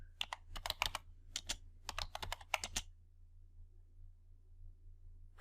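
Fingers type on a computer keyboard in a quick burst of close, crisp keystrokes lasting a few seconds, then the keys fall silent apart from a faint low hum.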